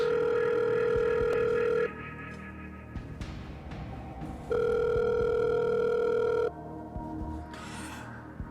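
A telephone ringing on the Nigerian edition of the quiz show Who Wants to Be a Millionaire, placing a phone-a-friend call: two long, loud electronic ring bursts separated by a pause, with studio background sound underneath.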